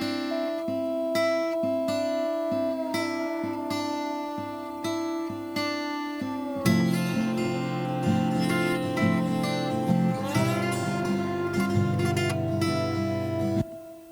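A layered guitar part plays a slightly different version of a wailing riff inside a full mix, steady rhythmic chords below and sustained melodic notes above, getting denser halfway through with no talking.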